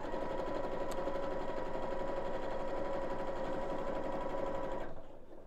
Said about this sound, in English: So now we'll just top stitch around the hole so I can lengthen the stitch a little bit here.